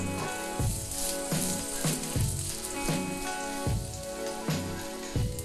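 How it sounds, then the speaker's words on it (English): Garlic sizzling in hot oil over high heat in a wok for Pad See Ew, a steady loud crackle with rhythmic bursts as the pan is swirled, no voices. "This garlic's gonna cook pretty fast, so in it goes."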